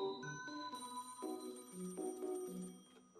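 A synthesized melodic telephone ringtone plays alone, a bright multi-note chiming pattern repeating steadily and clearly for a few seconds.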